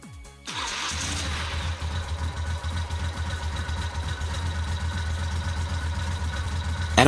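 A motorcycle engine cranks briefly and catches, then settles into a steady, even idle that runs close and loud to the end.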